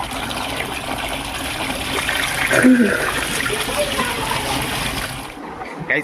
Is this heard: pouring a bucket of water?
yes